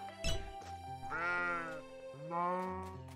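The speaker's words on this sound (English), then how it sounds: "that's the generic cow sound from Minecraft" Generic Minecraft cow moo sound effect playing in the video game Littlewood: two drawn-out, nasal, bleating lowing calls after a short sharp onset, clear and close, with no talking.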